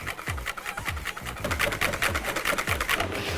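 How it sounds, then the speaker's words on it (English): Caster sugar, cornflour, whole eggs and yolks being whisked together in a bowl, giving a fast, steady scraping rhythm of wire strokes against the bowl that stays close and fairly loud throughout. "I'm going to whisk that all together"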